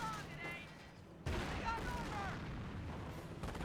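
Enemy gunfire rattles during a Company of Heroes 1 match with Panzer Elite forces, a muffled barrage of shots and bursts with a sudden louder crack of fire partway in, continuing steadily after.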